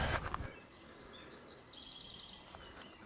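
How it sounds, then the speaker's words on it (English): Faint birds chirp and twitter in a quiet pine forest on Guadalupe Peak, Texas, after a brief rustle, thin calls drifting from a distance. "Up here in the pine trees, hearing the birds chirping."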